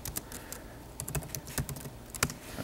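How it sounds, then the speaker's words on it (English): Fingers type on a computer keyboard running Arch Linux with XFCE, irregular bursts of close, crisp key clicks with brief pauses and no talking. "You start typing here"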